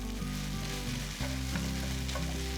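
Thawed, broken-up breakfast quesadilla ingredients pan-fry in a skillet, a dense, steady sizzle up close with a brief dip and a stirring scrape partway through.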